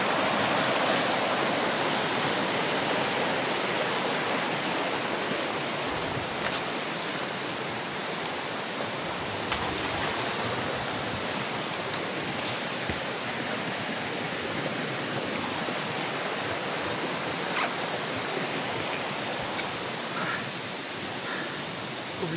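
Creek water rushes in a constant, even wash, steady and fairly loud throughout with no voices.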